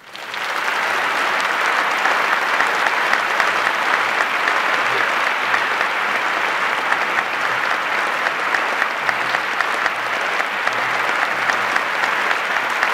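Sustained audience applause fills a Carnegie Mellon hall in Pittsburgh as Bill Gates is welcomed back for a building dedication, loud and steady for the full duration, with no voices rising above it.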